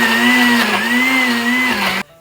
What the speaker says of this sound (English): Well, let's fire up the old blender.